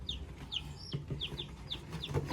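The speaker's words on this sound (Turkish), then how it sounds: "Burada da yeğenimin bir civcivli var." A chick peeps on a home balcony, repeated thin high chirps in quick succession, close but faint, over soft background noise.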